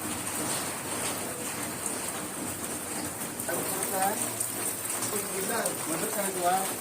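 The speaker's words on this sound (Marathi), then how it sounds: "काय पावसाचं पाणी आहे एवढा जोरात येतोय" Heavy rain pours down steadily while runoff streams from above, making a constant hiss with splashing, and voices can be heard talking over the downpour.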